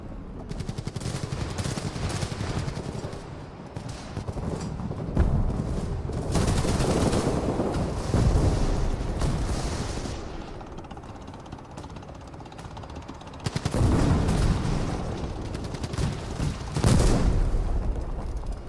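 Bursts of machine gun fire in War Thunder rattle in fast mechanical volleys, broken by pauses, with loud stretches near the start, in the middle and at the end.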